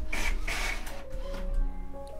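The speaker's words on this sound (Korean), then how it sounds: "프린터가 아주 정상적으로 나오는 모습이네요" A printer runs close by as it prints a document, giving two quick whirring feed passes followed by steady mechanical rolling and clicking, with no talking over it.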